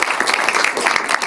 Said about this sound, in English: Can we give Rob a round of applause?